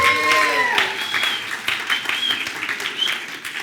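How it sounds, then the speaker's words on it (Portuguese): Audience in a church service applauds their pastor, a dense burst of clapping from many hands that starts loud and continues steadily, with some musical tones fading at the start. "vamos dar uma salva de palmas para o nosso professor"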